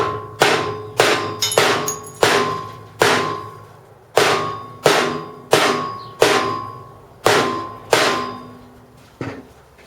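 Folded ice is smashed with a clean lump of wood: a series of about a dozen sharp, loud, close thumping cracks at an uneven steady pace, each ringing briefly before the next strike, with no talking.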